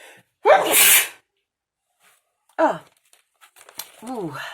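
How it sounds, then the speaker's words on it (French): A single loud, close sneeze bursts out in a home setting, followed by silence and then a voice making short vocal sounds. "je vais éternuer"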